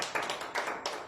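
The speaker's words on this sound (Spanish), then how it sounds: "Denle un fuerte aplauso al pueblo de Israel" A church audience claps during a sermon: a few quiet bursts of applause rise and fade in a rhythmic pattern, heard faintly and briefly.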